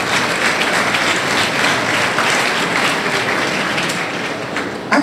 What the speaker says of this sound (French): Et je vous demande de les applaudir très très fort.